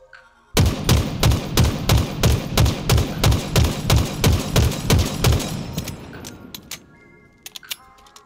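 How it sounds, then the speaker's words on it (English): Bandit rifle from Halo Infinite firing a rapid, evenly spaced string of about sixteen punchy shots, loud and close, followed by a short trailing clatter as the burst ends. "The gun, however, does have some beefy recoil when aiming from the hip,"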